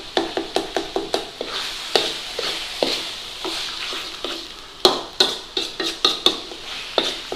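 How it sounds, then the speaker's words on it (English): A spoon scrapes and knocks against a pan as minced lamb is stirred with onions, garlic, chili and spices for keema matar curry, giving repeated sharp clinks over a soft sizzle, close and with no talk. "Mix it all in with your onions, garlic, chili and all the spices."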